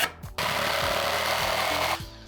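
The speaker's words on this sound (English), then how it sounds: "the spinning piece of wood on the lathe" A wood lathe spins a block of wood being shaped into a stool seat, a loud steady broadband whir with rhythmic low knocking of the spinning piece, running for nearly two seconds before cutting off.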